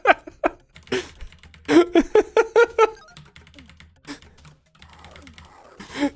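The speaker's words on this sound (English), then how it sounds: "The keyboard mashing and the excitement." Rapid, uneven bursts of computer keyboard mashing during excited gaming, with clustered clacks and short pauses, close and fairly loud.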